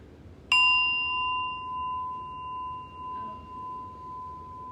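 A single bell strike rings out clearly, then its pure tone hangs and slowly fades over several seconds, with a faint tap midway.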